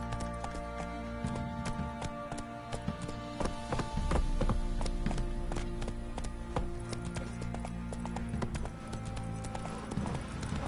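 A horse gallops in The Witcher 3 on PS4, its hooves clip-clopping in a fast, continuous rhythm at moderate loudness, with faint game sounds behind and no voices.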